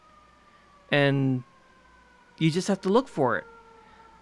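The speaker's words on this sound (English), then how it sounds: "There's an ambulance going by." An ambulance siren sounds faintly in the background, a steady tone drifting slightly lower as it passes by, beneath a person talking nearby.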